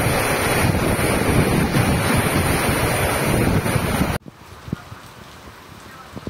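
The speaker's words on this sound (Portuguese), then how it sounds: "A chuva engrossou." Heavy rain pours down hard in the Brazilian sertão, a dense, loud wash of noise that cuts off abruptly to a quieter patter with scattered drips.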